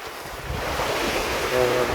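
Sea waves washing onto an island beach shore, a continuous broad surging rush with gusty wind noise buffeting the microphone, fairly loud and close.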